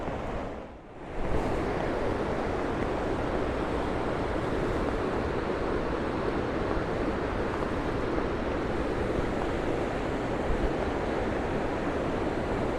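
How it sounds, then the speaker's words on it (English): A loud waterfall in Snowdonia roars steadily and broadband for the whole clip, a constant dense wash of rushing water with no pauses. "I'm hopeful that you'll be able to hear me over this waterfall, but it's quite loud"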